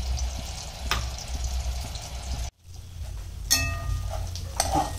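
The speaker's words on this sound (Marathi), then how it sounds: "आलं लसणाची आपली पेस्ट जी आहे ती तेलामध्ये छान भाजून झालेली" Ginger garlic paste sizzling in hot oil, a steady soft hiss of frying with a brief break and some clinks of stirring.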